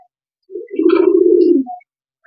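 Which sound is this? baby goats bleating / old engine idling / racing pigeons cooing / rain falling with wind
racing pigeons cooing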